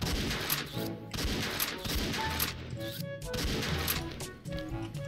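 Rapid gunfire from the XSHOT video game, dense bursts of shots repeating loudly across the whole stretch over a steady bed of game music and effects, with brief gaps between volleys.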